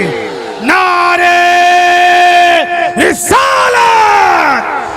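A large crowd roars a loud, sustained chanted response to the Naara-e-Takbeer slogan at a religious gathering, two long unified shouts with a brief break between, voices blending into a booming collective call.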